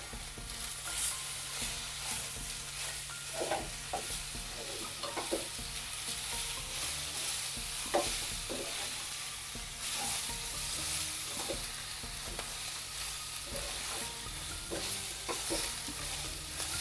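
Two large tomatoes sauté in a pan for an okra and prawn-head curry, giving a steady soft sizzle with occasional stirring scrapes, close and moderately quiet, with no talking.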